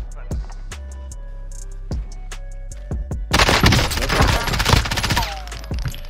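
Gunfire in Call of Duty Warzone, a series of sharp, spaced single shots followed by a dense, rapid burst of automatic fire that rattles loudly for several seconds.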